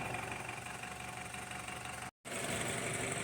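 A 2013 BMW 328 being checked for low oil pressure idles with a steady, even hum and faint vibration, heard up close with a brief dropout partway through.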